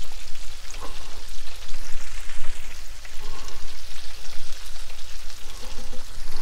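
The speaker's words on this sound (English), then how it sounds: "get that sauteed up" Garlic sautéing in a pan over the heat, a continuous loud, close sizzle with a fizzing crackle throughout and no voices.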